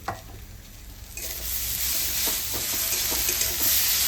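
Tomatoes drop into a pan of browned onions, and a steady loud sizzle of frying erupts and keeps going alongside stirring, with no one speaking.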